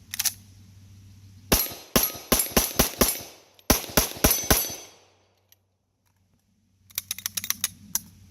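Rapid strings of sharp, loud 9mm shots from a Phoenix Trinity Honcho race pistol, fired in two close bursts of about six each, then a short quiet gap and a fainter, quicker volley.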